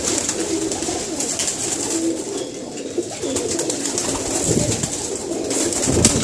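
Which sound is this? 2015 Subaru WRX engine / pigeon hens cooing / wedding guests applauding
pigeon hens cooing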